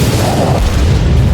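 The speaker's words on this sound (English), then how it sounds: "Gunfire on the right, explosion over there." Naval explosion effect from the World of Warships game, a loud, deep booming blast with a rumbling low-end tail that fills the short stretch.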